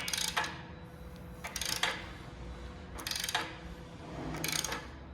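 A ratchet wrench tightens a bolt on a lifted shop truck in four separate bursts of rapid, close metallic clicking over low workshop background noise, with no talking.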